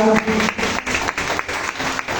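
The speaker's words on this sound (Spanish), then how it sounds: "Dale fuertes aplausos al Señor." A church congregation applauds, with brisk rhythmic clapping that pulses in regular beats, fairly loud and close, with a voice briefly at the start.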